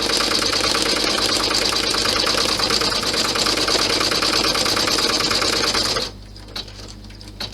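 A sewing machine runs steadily, stitching down the edge of a clutch bag, its fast even whir continuing for about six seconds before stopping abruptly, leaving only faint handling noises afterward.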